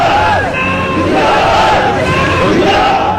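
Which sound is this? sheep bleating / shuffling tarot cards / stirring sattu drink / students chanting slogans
students chanting slogans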